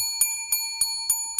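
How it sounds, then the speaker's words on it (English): A civility bell rung by an audience member at a public meeting in Kansas City gives five bright, evenly spaced dings, each ringing on with a sustained metallic tone. "I was having some bozo in the audience banging the civility bell"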